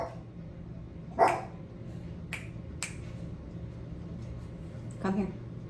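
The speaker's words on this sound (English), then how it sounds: "My dog is barking." A dog gives a few sharp, separate barks at moderate distance indoors, spaced over several seconds.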